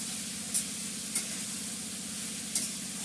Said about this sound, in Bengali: জিরেটা ফোড়ন দিয়ে আমি লাউটা দিয়ে দিলাম।